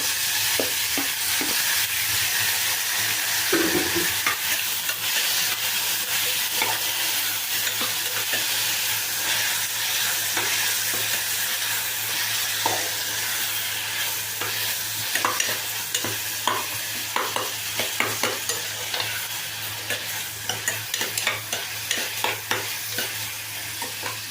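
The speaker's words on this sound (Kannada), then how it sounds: "ಈಗ ಟೊಮೆಟೊ ಚೆಂದಾಗಿ ಫ್ರೈ ಆಗಿದೆ" Tomatoes frying with onions and curry leaves in a pan make a continuous close sizzle, broken by frequent spatula scrapes and stirring taps that grow busier and more rhythmic toward the end; no speech.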